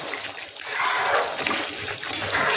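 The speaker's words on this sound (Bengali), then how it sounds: "এবার এতে ঝোলের জন্য এবার জল দেব" Water poured into a pan of chicken curry in curd batter makes a steady, close splashing and trickling wash that runs unbroken throughout, with a brief louder gush partway through.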